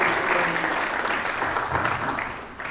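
An audience at an African Natural Capital Alliance summit applauds steadily, a dense, close wash of clapping that holds evenly and eases off slightly at the end.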